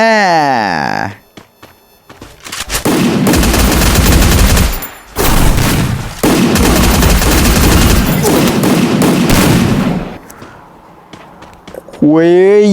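Loud, sustained bursts of automatic gunfire in a video game rattle on for several seconds with a brief gap between them, and a voice is heard talking before and after the shooting.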